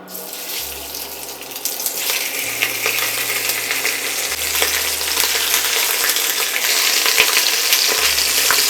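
Loud, steady sizzling and crackling of pork ribs frying in hot oil on a very hot surface, with occasional clinks and scrapes from a pan, continuous throughout.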